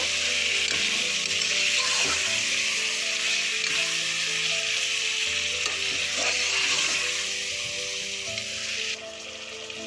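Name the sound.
chicken frying in oil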